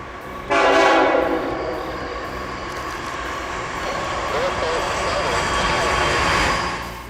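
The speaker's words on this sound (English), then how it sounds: "this cold train's engineer hit the horn for us as it rolled past" A loud freight train horn blasts close by as the train passes in cold weather, then the rumble and clatter of rail cars rolling past carries on steadily.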